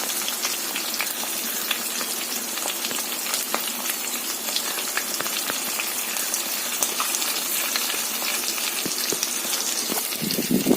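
Mustard seeds and sliced onion fry in hot oil for a crab curry, giving a steady, dense sizzle with scattered small pops and crackles throughout, close and continuous, with no voices.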